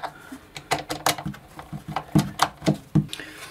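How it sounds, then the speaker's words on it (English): Two M4 screws come out of a Mean Well SE-450-24 power supply, a quick run of close, small metallic ticks and clicks from a screwdriver, rapid and irregular, with no talking. "So I removed those 2 screws"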